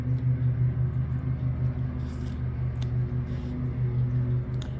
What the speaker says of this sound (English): my hubby is mowing the lawn